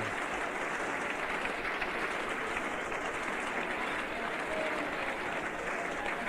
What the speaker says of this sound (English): Let's leave the applause for Randall from a Trent Bridge crowd as he comes in